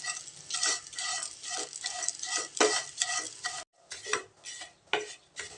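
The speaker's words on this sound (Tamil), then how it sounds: "சேமியா நல்லா செவக்க வறுத்து எடுக்கலாங்க." Vermicelli (semiya) roasting over a low flame for semiya payasam, stirred in a pan: repeated scraping and rustling strokes with a soft sizzle underneath, close and fairly quiet, with no voices.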